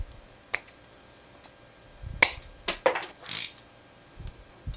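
A cast resin fishing lure made with microballoons has its sprue trimmed off, giving a handful of sharp, close snips and clicks spaced irregularly over a few seconds, with no talking.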